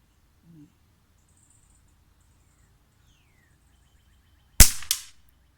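A Beeman P17 air pistol fires once on a range at 25 yards: a sharp, loud crack followed closely by a second snap, after a quiet stretch with faint background sounds.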